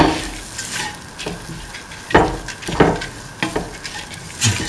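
Grated coconut stirred in a pan for a mint coconut dip: scraping spoon strokes and clinks against the pan come at irregular intervals over a soft background sizzle, close and moderately loud.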